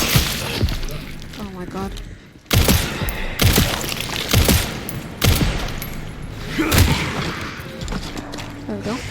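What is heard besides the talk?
gunshots in video game Resident Evil Requiem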